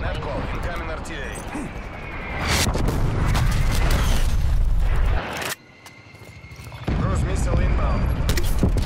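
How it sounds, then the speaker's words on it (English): Artillery bomb strike explosions in the shooter Black Ops Cold War: heavy deep booms and rumbling blasts come in waves, loud and close, with a brief dip in between and voices speaking underneath. "Enemy bomb strike incoming."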